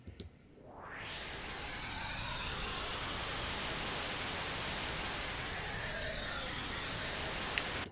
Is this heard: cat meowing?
no